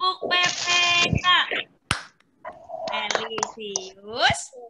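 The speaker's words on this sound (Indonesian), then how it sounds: "mari kita melakukan tepuk PPK dulu" A tepuk PPK clapping routine led in an Indonesian teacher-training class, with a few sharp, scattered claps set among loud, close chanting voices that dominate throughout.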